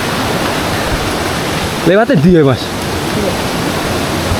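Mountain river headwaters rushing in the rain on a hike up Mount Wilis, a steady broadband roar of flowing water throughout, briefly interrupted by a short spoken phrase.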